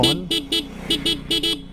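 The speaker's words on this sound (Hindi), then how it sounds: "हॉर्न अच्छा है, हॉर्न ज़ोर से बजता है।" A TVS Apache RR 310 motorcycle horn beeps in a series of short, loud, close blasts, about six quick honks with brief gaps between them.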